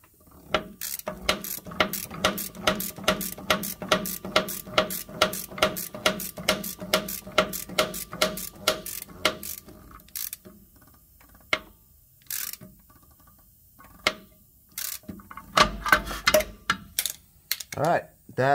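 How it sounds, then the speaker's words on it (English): A ratchet wrench turns the brake adjuster screws on a trailer during a brake pad change, giving a long run of steady, close clicks that break off into scattered single clicks and short bursts. "So we're going to take our ratchet and we're going to have to screw them just a little bit further."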